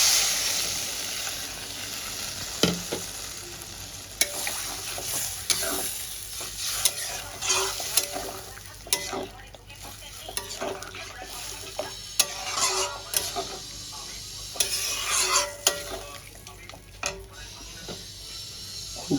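Potatoes cooking with spice masala in a pan, a soft continuous sizzle broken by repeated spatula scrapes and knocks against the metal at an uneven pace, close and fairly quiet.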